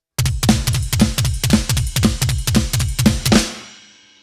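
A drum kit plays a beat at full speed, a fast driving run of kick, snare and cymbal hits lasting a few seconds before ending on a final crash that rings out.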